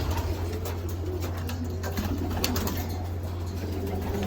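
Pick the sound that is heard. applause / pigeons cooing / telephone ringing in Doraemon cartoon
pigeons cooing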